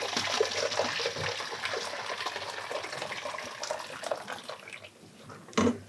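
Boiling water pours from a container into a cold bowl of salted water, a continuous close splashing gush that tapers off, with a brief knock near the end.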